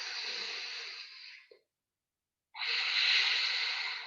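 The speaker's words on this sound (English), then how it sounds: "We will breathe Ujjayi. Breathing with a gentle whistling sound." Ujjayi breathing during a power yoga flow, two long, close, airy hissing breaths with a faint throaty whistle, an inhale and an exhale separated by about a second of silence, no talk.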